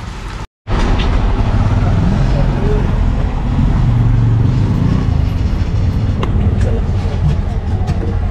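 An auto rickshaw ride through traffic near a market in Vikhroli brings a loud, constant engine and road roar after a brief dropout at the start, with voices mixed into the noise.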